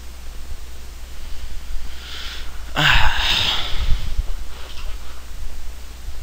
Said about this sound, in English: That's my chair. It's got like a plastic covering over it.